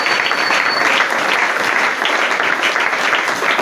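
A church congregation applauds during a praise and worship service, a dense, continuous wash of clapping that stays loud and even throughout, with no voices standing out.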